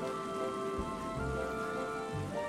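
Steady rain falls in the Oceanhorn 2: Knights of the Lost Realm video game, a constant soft patter on surfaces with low rumbling game ambience beneath and no speech.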